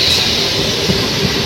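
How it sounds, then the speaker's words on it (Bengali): A train rolls through Gobardanga station in West Bengal with a steady, loud rumble of wagons and a faint clickety-clack of wheels on rails. There is no talk. "ওইদিকে ট্রেন চলে এসছে"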